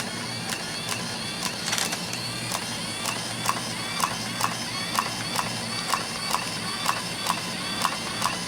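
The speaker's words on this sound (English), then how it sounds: "I'm trying to tighten up the paper here." Paper roll being tightened on an HP PrintCalc 100 printing calculator, a run of regular clicking mechanical ticks from the printer mechanism, close and evenly spaced, with no talking.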